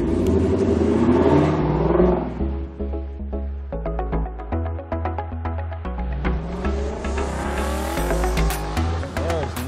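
A Lexus LC500 convertible pulls away with the top down, its engine revving up loudly through the gears with brief tire squeal, close and strong throughout, with speech-like sounds mixed in.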